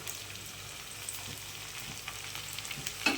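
Grated onion, ginger, garlic, tomato and dry spices sauté in a pan with a soft, steady sizzle and faint stirring scrapes, ending in a sharper clink near the close.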